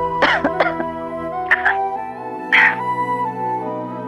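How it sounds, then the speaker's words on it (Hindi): A woman coughs in a series of short, dry bursts: two quick ones, then a single cough, then a final louder one, set over a steady sustained musical drone in an indoor household drama scene. "थोड़ी सी खांसी हो गई थी"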